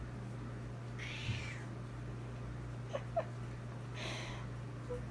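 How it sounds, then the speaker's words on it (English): A cat gives a soft, quiet meow that trails off into a yawn, followed by a second faint drawn-out call, with small squeaks in between over a low indoor hum. "A meow turned into a yawn?"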